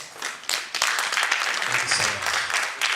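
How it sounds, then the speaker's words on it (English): Applause from a conference audience at a literature event, a broad steady patter of clapping lasting the whole moment, with faint voices mixed in underneath. "A round of applause to them."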